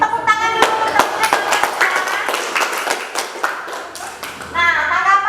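Schoolchildren clap for their classmates in an elementary classroom, a brief burst of scattered hand claps with taps and thumps, while a teacher's voice speaks over it near the start and end.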